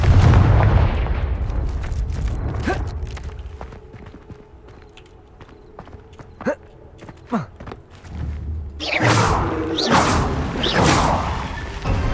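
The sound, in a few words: Confringo blast spell explosion in Hogwarts Legacy video game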